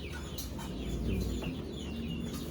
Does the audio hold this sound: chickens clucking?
yes